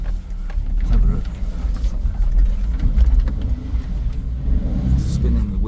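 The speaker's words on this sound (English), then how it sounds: "It's spinning the wheels like crazy there, so it won't get up there at all, no chance." Work truck revving hard on a steep slope as its wheels spin without grip, a continuous loud low engine rumble with scrabbling texture throughout, and someone talking over it.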